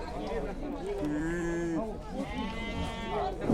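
Sheep bleating at a livestock market, a few wavering close bleats layered over someone talking and general crowd chatter.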